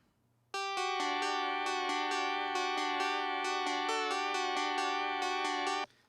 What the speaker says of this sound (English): I got a Casio keyboard.